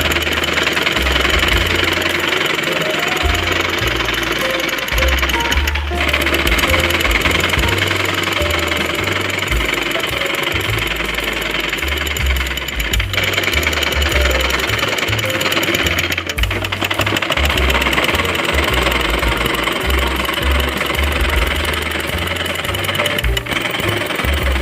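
A sewing machine stitches the side seam of palazzo pants, a loud continuous motor hum with a steady low throb running unbroken for over twenty seconds.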